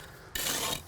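A trowel scrapes across a base to reshape a slope for an outdoor patio, one short gritty rasp lasting about half a second, close and fairly quiet.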